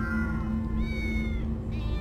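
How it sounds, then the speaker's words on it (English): Several cats meow in a Minecraft-style animated cartoon, overlapping drawn-out tonal cries layered over a steady background hum, close and fairly loud with no talking. "Ah, many cats. So many cats."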